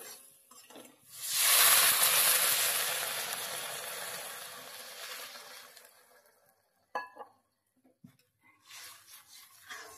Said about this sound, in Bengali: দিয়ে দেব পরিমাণ মতো জল।